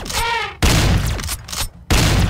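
Loud bursts of shotgun fire in an elephant battle video game, several blasts in quick succession with sharp onsets and a synthetic whine early on.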